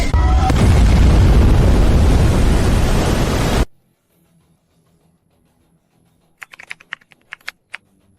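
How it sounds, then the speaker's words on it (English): A high energy laser main cannon fires with an explosion: a loud, dense roaring blast lasts about three and a half seconds and cuts off abruptly, followed by near silence and a few faint clicks. "High energy laser main cannon charged."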